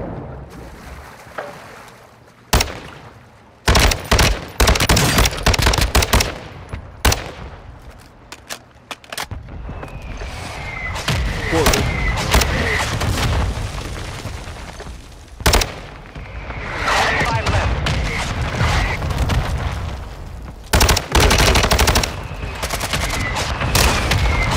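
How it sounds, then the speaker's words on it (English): Loud bursts of automatic gunfire in Call of Duty: Modern Warfare II as a player fires through a wall, rapid volleys with short pauses between them over a busy game background. "he's trying to shoot through the wall"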